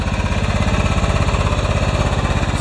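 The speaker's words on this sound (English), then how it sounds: "It's been a fantastic little tractor." A small model 180 lawn tractor's engine running steadily in a garden, a close, rapid, even chugging pulse with no voices over it.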